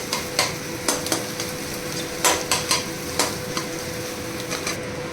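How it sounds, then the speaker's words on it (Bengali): Cut lemons being stirred in a pan for an egg sandwich filling, heard as a series of sharp spoon scrapes and clinks against the metal at an irregular rhythm over a soft background hum. "এবার দিয়ে দেবো আমার কেটে রাখা লেবুগুলো, আর একটু ভালো করে নাড়িয়ে নিতে হবে"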